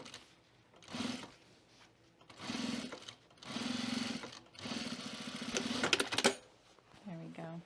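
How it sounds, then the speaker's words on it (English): A sewing machine stitches a fabric book sleeve with white thread in several short bursts, each a steady whirring run of a second or two separated by pauses, with talking around the runs. "we'll just sew it one more time just to make sure"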